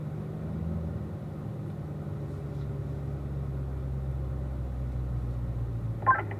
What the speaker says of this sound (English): That was Rob's car saying that.